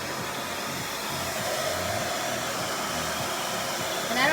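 A hair dryer on low heat and low fan setting blows steadily while drying curls, a continuous airy whoosh held close and alone, with a brief louder rustle near the end.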